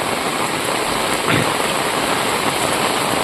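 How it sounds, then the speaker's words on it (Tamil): Heavy rain falls while floodwater rushes through a street by a temple in Tirunelveli district, creating a loud, steady, unbroken roar of pouring and flowing water. "அதிகமாக மழை பெய்துங்கிறங்க"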